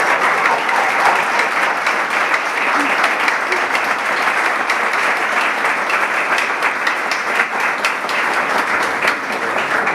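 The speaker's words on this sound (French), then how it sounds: "Je vous demande de l'applaudir chaleureusement" Audience applause welcoming a doctor to the podium at a youth event, dense, even clapping sustained loudly for ten seconds with faint crowd voices underneath.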